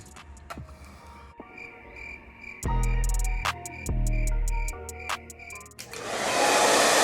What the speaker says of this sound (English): take a blow dryer and then blow dry